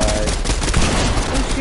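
Fortnite gunfire on PS5, a rapid fusillade of shots blending into dense ongoing combat noise, loud and steady throughout the short stretch.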